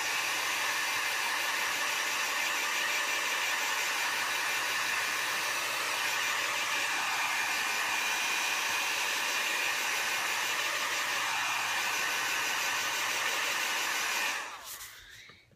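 A heat tool blows steadily to dry wet watercolor paint on a wildflower painting, a loud continuous whooshing hiss that runs unbroken for about fourteen seconds before cutting off abruptly at the end.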